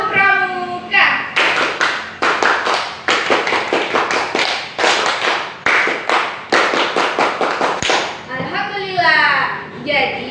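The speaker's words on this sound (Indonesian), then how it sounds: "Mari kita bertepuk pramuka lagi satu kali" Children do the rhythmic scout clap, tepuk pramuka, sharp hand claps in a fast patterned sequence at close range, mixed with their voices chanting along and an adult voice before and after.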